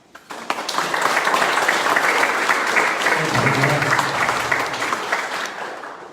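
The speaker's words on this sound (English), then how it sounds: "while the round of applause is going" A room full of people at a community recovery meeting gives a round of applause, steady and dense clapping that starts quickly and holds for several seconds, with a low voice briefly audible underneath partway through.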